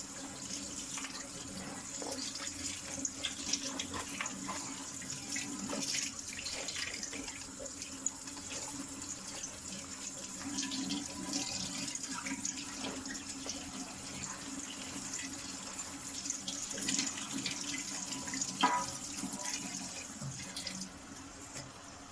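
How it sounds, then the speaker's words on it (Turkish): Cold tap water runs steadily over boiled okra being rinsed in a strainer at a sink, a continuous close splashing flow with no talk. "Soğuk suyla tekrar yıkıyoruz."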